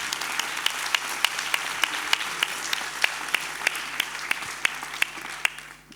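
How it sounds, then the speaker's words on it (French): An audience at a science-culture congress applauds the working group coordinators, a dense roomful of clapping with sharp individual claps standing out, steady for several seconds before thinning at the end. "je vous propose qu'on les applaudisse"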